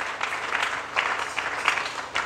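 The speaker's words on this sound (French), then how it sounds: "Nous pouvons acclamer le Seigneur" A church congregation claps steadily in acclaim of the Lord, giving a dense, sustained patter of many hands with small swells and no speech.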